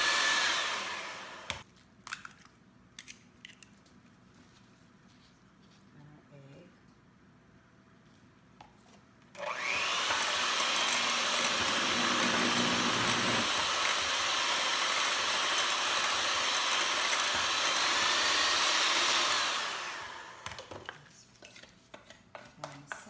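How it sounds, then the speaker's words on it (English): Electric stand mixer creaming butter and brown sugar runs loud and steady for about ten seconds, preceded and followed by quieter clinks and kitchen handling with no talk. "I'm going to cream the sugar and the butter"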